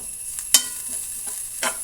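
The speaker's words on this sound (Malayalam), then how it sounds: "കറിവേപ്പില ഇട്ട് കൊടുക്കുന്നുണ്ട്" Curry leaves go into grated coconut frying in oil in a pan, a short close sizzle with a few sharp crackles and stirring scrapes.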